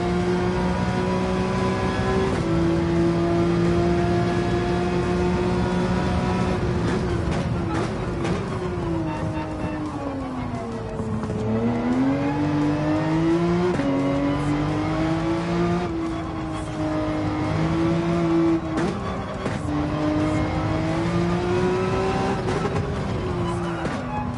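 A race car engine in Gran Turismo 7, among a Porsche 911, an AMG and a Ferrari, droning loudly and steadily close by, pitch rising and falling through gear changes and corners, with brief tire squeal.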